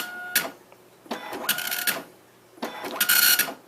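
An Apple ImageWriter II dot matrix printer, hooked to an Apple IIc, prints in three buzzing, rasping bursts as the print head sweeps across, with short quiet pauses between passes and nobody talking.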